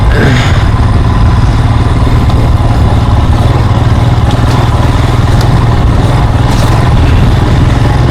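A Royal Enfield Himalayan motorcycle rides bumpy green lanes, its engine a loud, continuous close drone mixed with heavy wind rush throughout.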